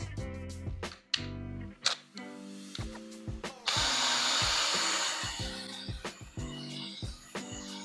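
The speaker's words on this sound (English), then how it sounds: "So we will hit the other half of this with the drill brush" A drill brush scrubs a filthy carpet mat, whirring in short bursts with clacks and knocks between them, then settles into one steady spinning scrub for a couple of seconds. The sound is close and moderately loud.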